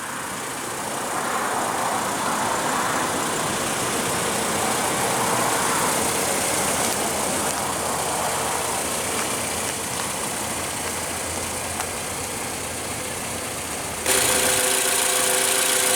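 A 2015 Toyota RAV4's 2.5 L four-cylinder engine idles steadily under the open hood, a close, even mechanical hum and vibration that holds throughout, with a brighter whirring rise near the end.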